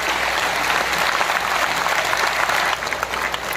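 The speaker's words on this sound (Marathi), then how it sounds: "सगळ्यांनी हात वर करून हात वर जोरात जोरात टाळ्या वाजवायच्या." A large audience at the Bharat Vikas Parishad award ceremony in Latur claps loudly with raised hands, a dense, steady burst of applause that holds strong for several seconds before thinning slightly near the end.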